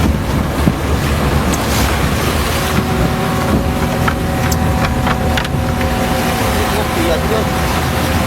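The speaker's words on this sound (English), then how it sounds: "The vessel surged forward, cutting through the waves" A fishing vessel ploughs through ocean waves, a steady loud engine drone mixed with rushing water and wind, continuous and close with no break.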